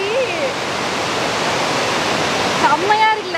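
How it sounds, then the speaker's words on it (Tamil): A heavy waterfall pours in a loud, steady roar close by, with brief voices and whistle-like sounds coming in near the end. "எவ்வளவு கொட்டதா அருவி"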